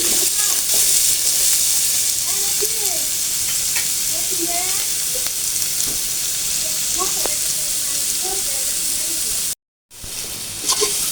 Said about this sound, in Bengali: আমি হচ্ছে মিষ্টি লাউ ভাজিটা আগে দিচ্ছি